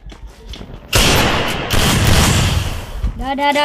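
Rapid bursts of gunfire from a 1v1 shooting video game erupt loudly after a quieter start, sustained crackling shots filling most of the moment before tapering into a brief tonal game effect.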